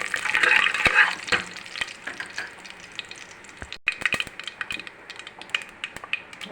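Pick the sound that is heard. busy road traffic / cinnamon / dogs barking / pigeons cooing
cinnamon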